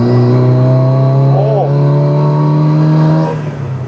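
A Peugeot 304 engine revs hard with its two-barrel carburettor opened up, a loud steady drone that swells briefly mid-clip before easing off near the end.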